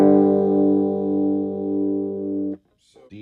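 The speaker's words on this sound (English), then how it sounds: "we'll bring the distortion up" A single sustained electric guitar chord through a distortion pedal rings loudly and slowly fades, then cuts off into a brief moment of a voice starting to speak.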